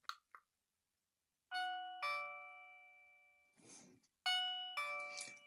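A TEMU smart wireless video doorbell plays its chime demo: two clear, ringing ding-dong tones that each sustain and decay, after a couple of soft clicks, with no talking over them.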